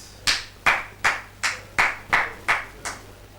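Congregation in a church clapping in unison, eight sharp rhythmic claps at a steady tempo, fairly close and clear, with no talking over them.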